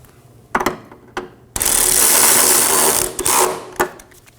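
A power tool drives the fuel tank strap bolt on a 2015-2023 Nissan Maxima 3.5L V6, a loud whirring burst of about two seconds after a few clicks and knocks, then a final tap.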